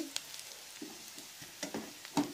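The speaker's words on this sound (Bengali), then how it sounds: "ওর মধ্যে হাফ চামচ আদা বাটা দিলাম। আবার ভালো করে কষিয়ে নেব।" Onion, garlic and ginger paste being sautéed and stirred in a pan, quiet scattered sizzling with a few sharp scraping clicks of a utensil, close and faint.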